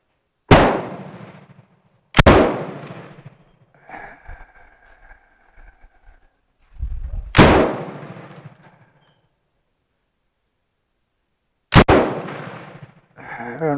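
A Bren MK2 rifle fires single shots outdoors, four loud sharp cracks spaced irregularly with ringing decay, and a faint metallic clatter between them.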